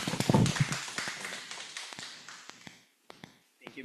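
An audience applauds a speaker at a lecture on tuberculosis, with a moderate spread of clapping that starts fairly full and thins out to a few scattered claps before it fades.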